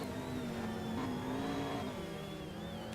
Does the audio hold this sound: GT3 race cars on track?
yes